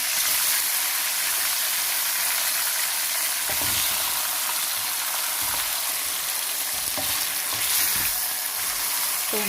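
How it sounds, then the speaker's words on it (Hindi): Chicken pieces sizzle steadily in hot oil in a karahi for a dhaba-style Sindhi chicken karahi, a constant loud frying hiss with a few soft clinks of stirring and no voices. "बस इसलिए अब इस चिकन को हम वाइट होने तक इसको भूनेंगे।"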